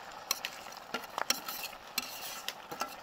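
Jaggery melting in a pan is stirred with a utensil, scraping and tapping against the metal in irregular strokes over a faint sizzle, with no voices.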